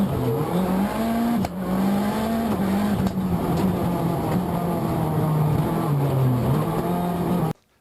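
Race car driven by Ken Block, a car that was catching fire during a run, its engine droning steadily and loudly with shifting pitch throughout before cutting off abruptly at the end.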